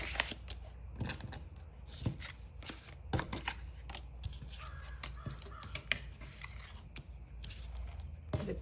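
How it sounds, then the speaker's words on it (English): Crows cawing repeatedly outdoors, loud harsh calls in irregular bursts over steady background noise, with a brief exclaimed voice early on. "The crows are here."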